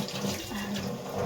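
Green chilies are rinsed under a running kitchen tap, giving a steady, close splashing stream of water with no talking.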